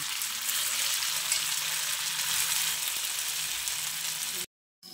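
Flattened rice cutlets fry in hot oil with a steady, dense sizzle that runs unbroken at moderate volume, then cuts out abruptly just before the end.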